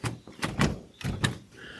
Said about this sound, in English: I tried to open the door. Unfortunately, it was locked.